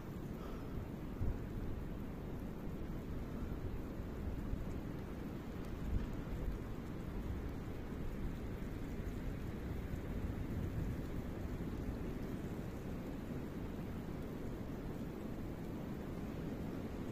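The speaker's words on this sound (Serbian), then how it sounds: "Pojačava kišica" Steady rain falls at a lake in France during float fishing for carp, making a constant close hiss with low rumbles of thunder underneath. The level stays fairly even throughout.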